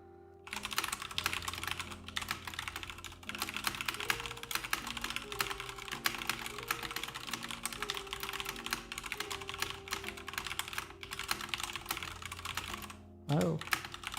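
Rapid typing on a computer keyboard during a typing race, a dense, continuous clatter of keystrokes, close and loud, with a brief bit of speech near the end and a faint tonal hum beneath.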